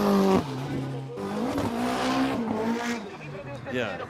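Drift car at Ebisu Circuit West Course in Fukushima pouring on heavy throttle through the outer zone, engine screaming and tires squealing in a long slide, with a commentator talking over it.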